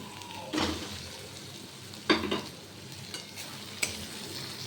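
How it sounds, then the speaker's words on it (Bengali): Eggs stirred through sizzling masala in a pan for Bengali egg korma, with a few distinct scraping stir strokes over a steady low frying hiss. "এবার ডিমগুলো দিয়ে মশলার সাথে ভালো করে নাড়াচাড়া করে নেব।"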